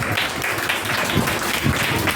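Studio audience applauding a correct answer by a contestant on a Hindi kids' quiz show, a dense, steady wash of clapping that fills the whole stretch at even loudness with no voices on top.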